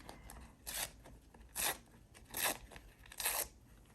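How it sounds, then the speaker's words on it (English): Watercolor-painted paper torn by hand in four separate bursts, each a short crisp rip about a second apart, close and fairly loud against a quiet room. "Maybe I'm going to tear this."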